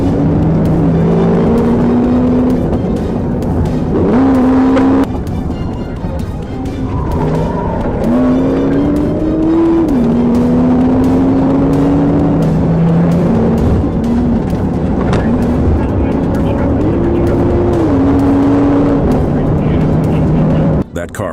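Red Camaro SS tearing along during a police chase, its engine rising and falling through repeated revving sweeps with tire noise, loud and continuous over a narrator's voice throughout.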